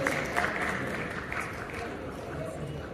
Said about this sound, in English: I want you guys to give yourselves a lovely round of applause. Come on, clap like kings and queens.